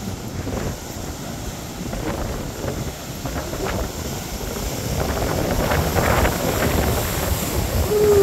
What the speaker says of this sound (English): The waves are coming up.